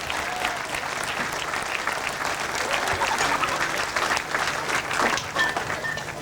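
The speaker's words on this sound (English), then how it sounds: "One big round of applause, please, to a great track racer, third this afternoon, Glen Cunningham." Outdoor crowd applause for the third-place rider on the rostrum at a British Masters grasstrack motorcycle meeting, steady clapping sustained for several seconds, moderately loud and slightly distant.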